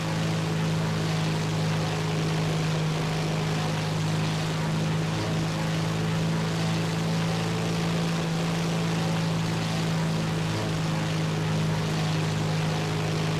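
Aircraft engines drone in War Thunder while an Italian P-108 bomber is chased, giving a steady, unbroken propeller hum with a strong low tone that holds evenly throughout.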